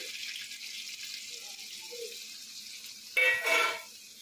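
Boiled mutton stock poured into a hot pan while cooking biryani, a short burst of splashing and hissing that follows a quiet stretch of low background cooking noise.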